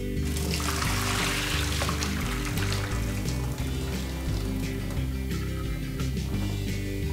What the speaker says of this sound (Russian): Картошка сварилась, надо сливать воду.